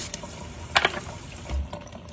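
Cold tap water runs over corn cobs being rinsed in a sink, a brief close splash and trickle with a couple of louder bursts as the cobs move under the stream.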